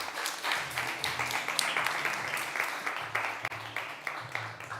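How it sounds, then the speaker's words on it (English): An audience at a startup pitch event claps after a pitch, a moderate, somewhat uneven round of applause from a modest crowd lasting several seconds. "Round of applause."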